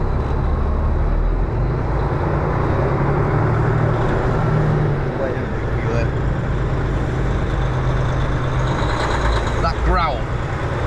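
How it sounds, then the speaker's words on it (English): A truck engine idling with a rough growl suspected to come from oil starvation at the top end, a steady low rumble with faint higher rattling throughout. "It just sounds like oil starvation at the top of the engine"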